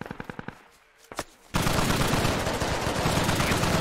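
Rapid rhythmic bursts of DShK heavy machine gun fire in the Squad military game, a fast string of close shots, a short pause, then a sudden dense roar of sustained gunfire and explosions.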